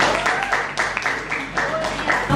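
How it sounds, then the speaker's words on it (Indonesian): A classroom audience applauding, rapid overlapping hand claps in close bursts that stay fairly even and continue throughout the short stretch. "tepuk tangan buat"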